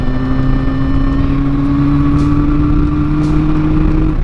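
Honda CB350F four-cylinder motorcycle engine running steadily while riding at about 60 km/h, a constant loud hum with a smooth steady drone and no talk over it.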